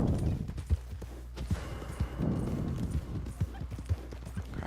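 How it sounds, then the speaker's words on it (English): Horse hooves clip-clop steadily in Red Dead Redemption 2, a continuous walking rhythm of muffled thuds over a dense rumbling outdoor background. "Get on the horse."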